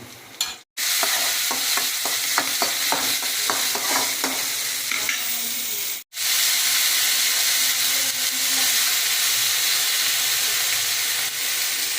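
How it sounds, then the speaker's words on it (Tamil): Onions frying in a pan for chana dal kootu, a steady close sizzle and hiss with stirring scrapes early on, broken by two brief cuts, no talking. "கடலைப்பருப்பு கூட்டுக்கு வெங்காயம் வதக்கிட்டு இருக்காங்க"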